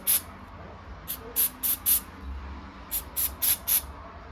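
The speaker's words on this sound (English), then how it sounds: "we're gonna use the spray" Short bursts from a spray can during an Acer laptop repair: about nine quick, sharp hissing puffs, close and loud, one alone and then two tight clusters with brief pauses between them.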